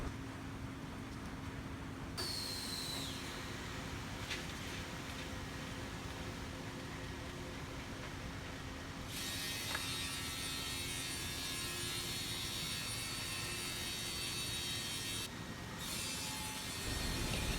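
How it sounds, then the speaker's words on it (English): A CNC machine trims the four edges of MGO board on a production line, giving a steady broadband grinding and rasping drone with shifts in intensity, running continuously at moderate level with no talk. "we will use this CNC machine to cut in the four edges of MGO board according to customer's requirement size"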